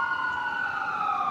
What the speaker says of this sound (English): Ambulance going down the street in Boston.